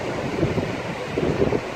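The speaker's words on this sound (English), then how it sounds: "Behind me, you can see the sea. It's the ocean." Atlantic Ocean waves washing onto the seashore, heard as a soft rolling surf mixed with gusty wind buffeting the microphone. The sound is moderately loud and continuous, with no voices.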